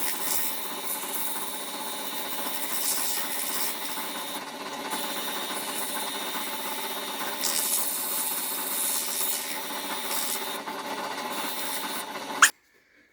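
Steady, continuous abrasive rubbing of an 80-grit sanding sponge worked by hand over mango wood, a close, even scratchy hiss lasting many seconds before stopping abruptly.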